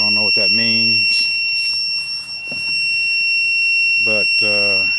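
An Andeman Epower-155Pro jump starter, just plugged in, gives off a steady high-pitched electronic tone that runs unbroken throughout, under someone speaking in short bursts nearby.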